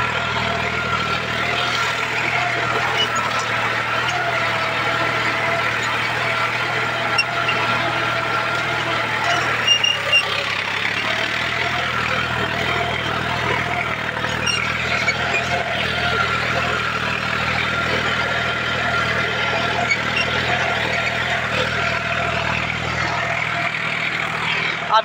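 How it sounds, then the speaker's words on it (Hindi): A John Deere 5105 40 HP tractor pulling a cultivator runs at a steady 1600 rpm. Its low diesel drone holds even and continuous throughout, with no dips in engine speed. "ट्रैक्टर 1600 आरपीएम पे, सेम 1600 आरपीएम पे चल रहा है"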